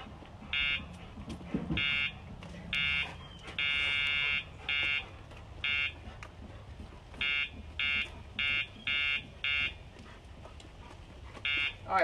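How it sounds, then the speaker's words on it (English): A dog training pager gives electronic buzzing pulses in short bursts, some longer than others, cutting in and out over a quiet background. "that buzzing sound is the pager"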